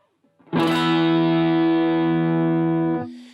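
A single electric guitar chord rings out and sustains for about two and a half seconds before stopping, thickened by a very short delay of under 20 milliseconds on one side that widens it into stereo; no talking.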